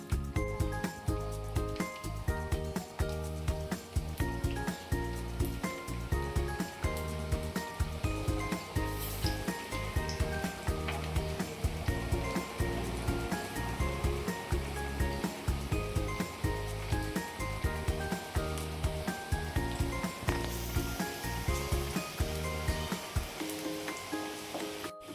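Onion bhaji batter fries in hot oil over a medium gas flame, a continuous dense sizzle and crackle with steady loudness. Background music plays underneath throughout.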